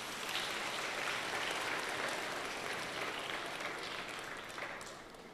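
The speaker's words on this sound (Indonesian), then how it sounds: "Kasih tepuk tangan dulu dong buat Yosua." Applause from a church congregation fills the room, a dense steady patter of many hands clapping for several seconds and easing off slightly toward the end.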